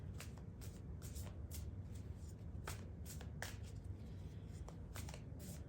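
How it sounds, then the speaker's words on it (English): Tarot cards are shuffled close by in a run of quick riffling bursts, crisp papery flutters repeating over several seconds with no voices. "So I'm just going to shuffle my cards."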